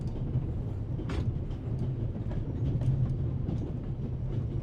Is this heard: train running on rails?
yes